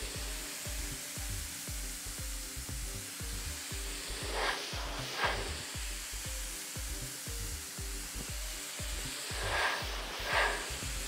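A pressure washer sprays a car that has been parked under a pine tree, shooting through a narrow nozzle outdoors in the wind. The hiss runs steady and close, with a low rhythmic pump pulse beneath and brief brighter swells as the jet sweeps across.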